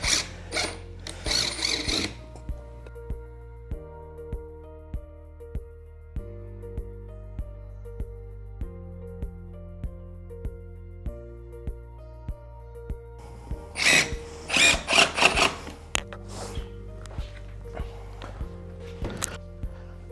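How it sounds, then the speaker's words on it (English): A power drill driving screws down into loft boarding, heard as repeated short whirring bursts with steady gaps between them and a denser spell of rattling partway through. "So again, just screwing these down."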